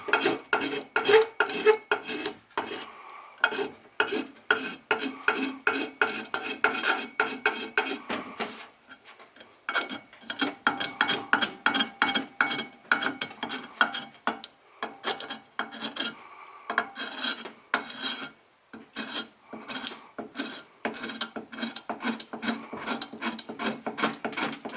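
Repeated rasping scrapes of a metal scraper working an old gasket off a Honda minibike engine case, steady strokes in quick rhythm with brief pauses, close and fairly loud with no talking.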